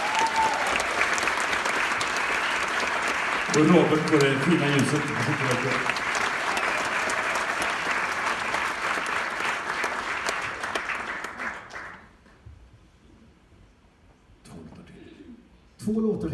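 Theatre audience at a concert at Södra Teatern applauds in a loud, sustained wash for about twelve seconds before fading out, while someone speaks over the clapping and a brief voice follows in the quiet.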